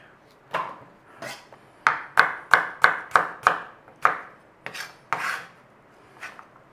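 Food chucked into a pan for a breakfast hash, with a series of close, rhythmic scraping knocks against the pan, about a dozen in quick succession, then a few slower ones.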